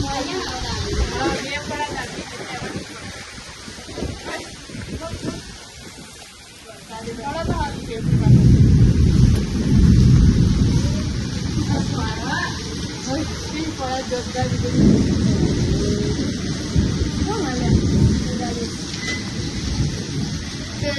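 Steady rain falls while a deep rumble of thunder swells and rolls in midway during a storm with lightning; people talk faintly under the storm.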